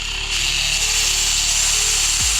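A power drill bores through wood with a backer board behind it, a steady close whirring drone that holds throughout, then winds down at the very end.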